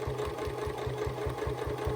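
A sewing machine stitches a cathedral window Christmas tree decoration, with a steady, rapid mechanical thumping rhythm, running continuously up close.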